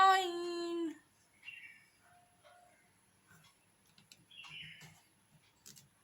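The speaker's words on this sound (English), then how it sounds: "Birds." Birds chirp and call in short, scattered bursts, one loud harmonic note up front followed by fainter, sparse tweets against near silence.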